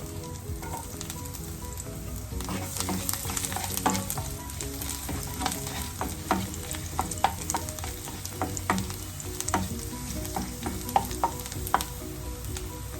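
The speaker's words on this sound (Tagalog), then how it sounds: "Iinit na siya atong lundan og garlic" Garlic frying in hot oil in a pan for a chicken curry with pineapple, a close, continuous sizzle punctuated by frequent sharp crackles and pops, heard alone.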